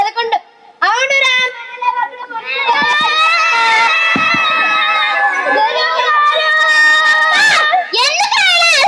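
A group of children shout and wail together at a school play staged by students. Loud, sustained cries overlap one another close by, with a brief pause near the start.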